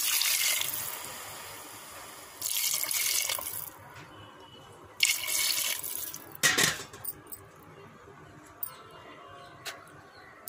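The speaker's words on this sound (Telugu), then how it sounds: "వాటర్ 2 కప్పులు పోసుకోవాలి" Water from a tap runs in bursts into a cooking pot for rice and moong dal biryani, with splashing pours separated by pauses and a few drips, close and fairly quiet.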